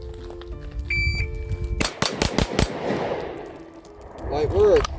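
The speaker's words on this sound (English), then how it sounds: "Fire 5 rounds in 4 seconds." Five rapid pistol shots fired from the holster on an outdoor shooting course, sharp loud cracks bunched within under a second, with faint background noise and a short electronic beep from the shot timer near the start.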